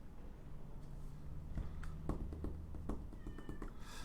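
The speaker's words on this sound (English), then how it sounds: "my little brown cat, my little tiny furry friend, she wants to get in?" A small brown cat meows repeatedly to be let inside, several clear meows spaced over a few seconds against a steady low background hum.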